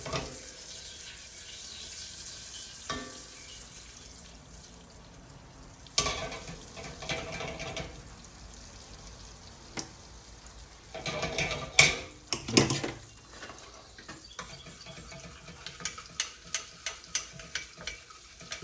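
Butter and sugar cooking in a pan for glazed carrots, with faint intermittent sizzling and scraping stirs, a few louder clanks and taps of the utensil against the pan, and no talk.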